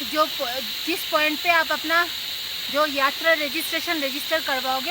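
Loud, steady pulsing chirps of crickets in a mountain forest on the trek to Rudranath Temple, repeating in rhythmic bursts while someone speaks over them.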